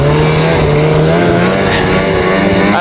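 A snowmobile engine revs hard at high RPM, a loud, close, continuous drone that holds steady and climbs slightly in pitch throughout.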